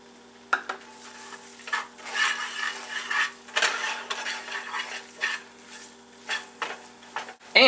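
Diced onions sizzle softly in a pan as a spoon stirs them, bursts of crackling frying rising and falling with each stir, plus light scrapes and clinks of utensil on cookware, close and with no talking.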